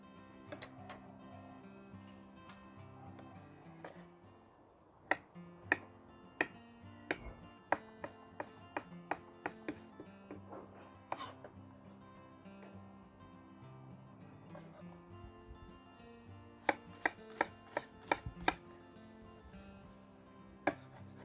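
A knife chops half a shallot on a board, sharp irregular clicks coming in short bursts at moderate distance over a faint steady background.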